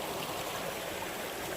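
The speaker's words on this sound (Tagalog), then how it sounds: "At ito yung batis na to." A flowing stream in Tung Chung, Hong Kong makes a close, continuous burbling rush of water. It stays steady and fairly loud throughout, with no talking.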